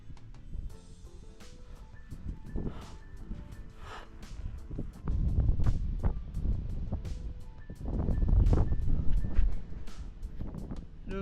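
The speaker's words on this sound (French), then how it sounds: "Le vent est dur." Strong wind roars and buffets the microphone in heavy, surging gusts during high-altitude bikepacking near 4100 metres in the Andes desert, with rough breathy bursts rising and falling throughout.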